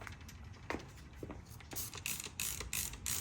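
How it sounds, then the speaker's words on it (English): A series of short hissing bursts, several quick sprays in a row, grow louder and closer, with small clicks between them. "Just give it all as a spray all over."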